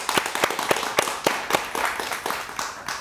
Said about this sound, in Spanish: aplauso para él, por favor